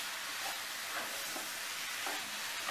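Coconut and sugar mixture being stirred steadily in a pan over low heat, a soft continuous scraping and faint sizzle with gentle rhythmic strokes and no voices.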